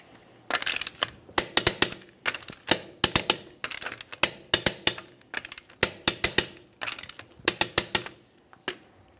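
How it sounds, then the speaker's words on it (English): Torque wrench clicking as wheel lug nuts on a 2006-2012 Ford Fusion 3.0L V6 are tightened to 100 foot-pounds in a crisscross pattern: about two dozen sharp, close metallic clicks in short bursts of two or three, with no talking. "we'll torque these in a crisscross manner."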